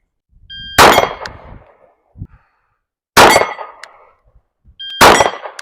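A Glock 26 pistol fires three loud, spaced shots at an outdoor range, each followed by the ringing clang of a steel target 25 yards away.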